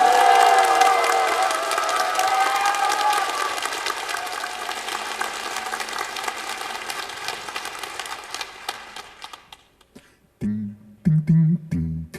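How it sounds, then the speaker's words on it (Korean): A studio audience at a Buddhist broadcaster's anniversary special public show in Busan applauds to welcome an a cappella group; the clapping starts strong, gradually thins and fades out, then a few brief low sounds follow near the end. "큰 박수로 환영해 주십시오"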